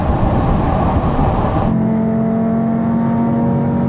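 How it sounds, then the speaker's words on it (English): A tuned Audi RS3 accelerates hard in a drag race, a loud broadband engine roar that cuts to a steadier, lower drone with sustained tones partway through as the car pulls away. "Oh, look at the Audi go!"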